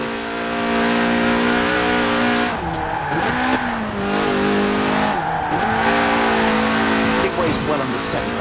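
A sports car in Forza Horizon 4, a 1.8-litre 190-horsepower engine revving to 8,000 RPM, revs loud and close, its pitch climbing high, dipping sharply and climbing again several times like quick gear changes.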